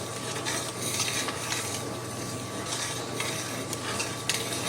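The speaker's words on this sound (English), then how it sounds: "I'm starting to stir and that boil is staying." A spoon stirs boiling Christmas jam with citrus zest in a pot, a steady scraping and bubbling sizzle with soft utensil clinks and no voices over it.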